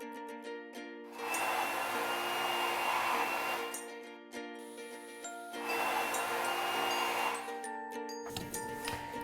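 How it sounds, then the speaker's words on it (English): A lightweight blow dryer roars in two sustained bursts of about three seconds each while drying hair, close and steady with a breathy whoosh, separated by brief quieter pauses. "This is why the really lightweight blow dryer is super important"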